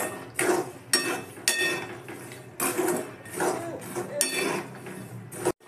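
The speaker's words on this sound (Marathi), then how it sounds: "झाऱ्याने याला असं मी मिठातून काढून घेते." Roasted peanuts scooped from hot salt with a metal slotted spoon, giving a series of sharp scraping clinks and gritty rattles against the pan, close and fairly loud, with no talking.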